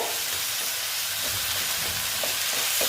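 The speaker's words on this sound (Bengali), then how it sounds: "আমি নাড়াচাড়া করে নিচ্ছি নাড়াচাড়া বলছি কষিয়ে নিচ্ছি" Banana flower (thor ghonto) sautés in a pan, a dense continuous frying sizzle with soft scraping of a spatula stirring through it, close and steady throughout.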